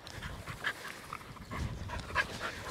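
A hunting dog out on open prairie during a bird hunt pants in quick, close, soft breaths, with brief whimpers and light rustling over the breeze.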